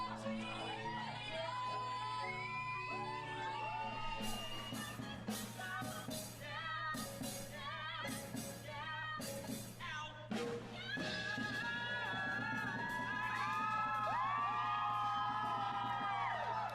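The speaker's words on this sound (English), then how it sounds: "There's just too much like actual screaming going on for me to tell what's happening with the belt." A live theater audience screams and cheers continuously at a musical performance, loud whoops and shrieks piling over one another under a sung belted vocal line, with bursts of crowd noise throughout.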